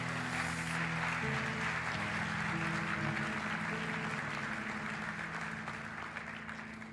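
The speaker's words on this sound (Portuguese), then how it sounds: "diga amém e aplauda ao Senhor Jesus" A church congregation applauds during a sermon, a soft wash of clapping that fades slowly toward the end, with tonal sound and faint voices underneath.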